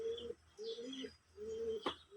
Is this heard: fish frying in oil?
no